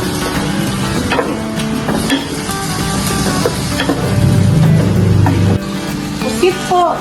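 Shrimp sizzling and being stirred in a pan while cooking seafood kare-kare, a steady close frying hiss with scraping utensil stirs, loud and continuous throughout with no talk over it.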